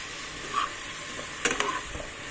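Fresh-cut sambar vegetables such as drumstick tossed into tomatoes softening in oil in a pan, giving a soft sizzle with a few brief spoon-stirring scrapes and clatters at close range, no talking.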